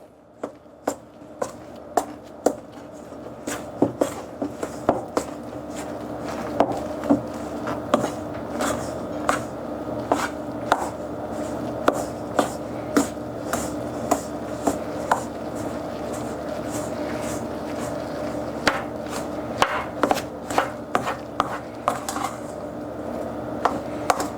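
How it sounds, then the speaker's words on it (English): High-protein white chocolate macadamia cookie dough being mixed and pressed down with a spoon in a bowl, a long run of sharp repeated taps and scrapes at an irregular rhythm, close, with no talking. "let me start just combining it. with a spoon and pressing it down."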